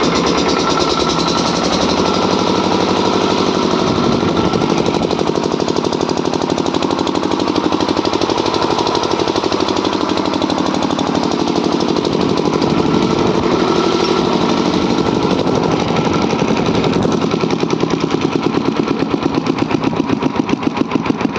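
Generator fitted with a newly installed radiator and water pump, running continuously with a loud, rough, rattling engine drone that holds steady throughout at close range.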